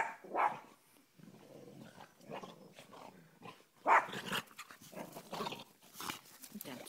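A dog in a garden gives a few short barks and huffs at irregular intervals, close by, mixed with someone talking softly in French.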